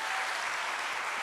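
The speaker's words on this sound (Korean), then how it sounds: "하나님께 영광의 박수 올리겠습니다." A church congregation at a Sunday evening service claps together, a brief, steady, fairly soft patter of applause with no talk over it.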